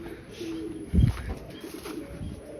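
A pigeon kept at a rural home gives one low, close coo, with soft background noise before and after.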